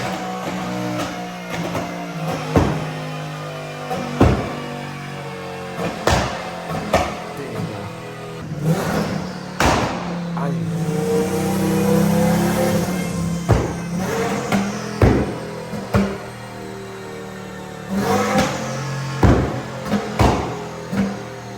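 A heavily modified Lamborghini Huracán engine revs hard, over and over, with loud sharp bursts and pops between sustained roaring pulls, close up and without talk.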